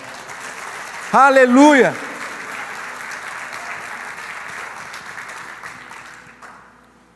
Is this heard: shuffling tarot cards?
no